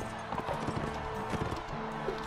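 Horses gallop in a Mount & Blade: Warband tournament, a fast, steady clip-clop of hooves in a continuous rhythm under a constant background din.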